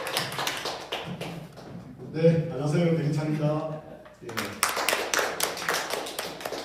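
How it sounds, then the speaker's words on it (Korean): An audience at a tenth-anniversary cooperative lecture claps for an arriving speaker, crisp close handclaps before and after a short stretch where someone speaks over them. "큰 박수로 모시겠습니다"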